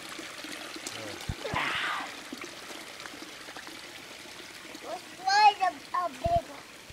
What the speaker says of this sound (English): You just throw them in the water.